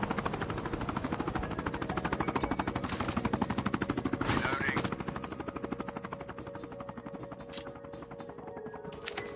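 A stolen helicopter in a Call of Duty match drones with a steady pulsing rotor under bursts of gunfire. The whir is loud at first, then fades toward the end while a commentator talks over it.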